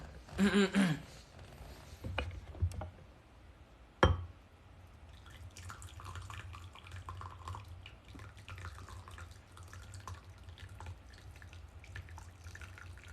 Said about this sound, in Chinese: 你们听着水声， 听着就很让人舒服。